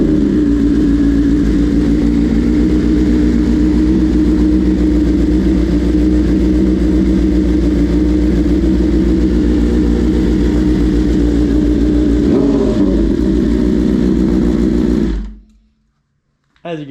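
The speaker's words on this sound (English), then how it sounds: "I can start it up for you guys quick. This would be a cold start." A 2023 BMW S1000RR with an aftermarket exhaust runs loud and close from a cold start in a steady, throaty idle, with a brief rev near the end before it cuts off abruptly.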